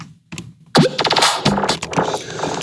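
An electronic drum fill builds from sparse hits into dense, punchy percussion with swelling reverse claps rising into the beats, loud and upfront, ending in a busy rattling roll.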